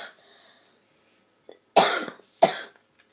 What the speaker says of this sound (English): not just exaggerating on my cough